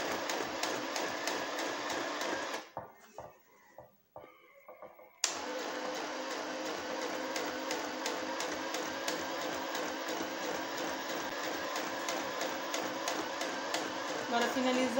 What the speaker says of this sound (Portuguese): E vou continuar costurando aqui.